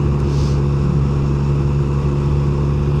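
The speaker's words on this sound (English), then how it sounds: "Just trundling down in 6th gear." A QJMotor SRK 921 RR motorcycle cruises steadily in sixth gear at about 40 mph, a loud, constant low engine drone with a steady hum and wind noise, heard close up from the rider's position.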